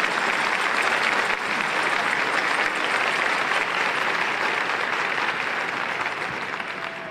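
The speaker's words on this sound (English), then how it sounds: "Let's give them a round of applause" An event audience gives steady, dense applause, a continuous wash of clapping from many hands that holds level for about seven seconds before easing slightly at the end.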